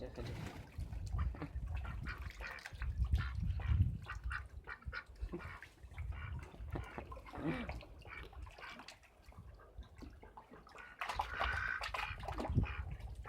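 Ducks in a bathroom, giving intermittent quacks and honks among splashing and sloshing water, with people talking nearby at low level.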